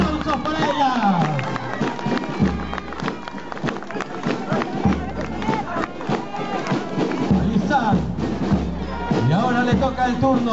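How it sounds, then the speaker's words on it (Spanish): Parade crowd applauding students as they march past, with steady loud clapping and cheering mixed with crowd noise and a loud voice speaking over it throughout. "¡Fuertes los aplausos para ellas!"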